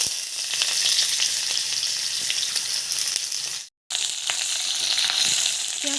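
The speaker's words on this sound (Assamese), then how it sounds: "তেলৰ কেৰাহীখন গৰম হৈ গ'ল ইয়াতে এতিয়া দি দিম পিঁয়াজ" Sliced onions sizzle steadily in hot oil in a wok, a close, continuous crackling fry with faint stirring clicks and one brief silent break midway.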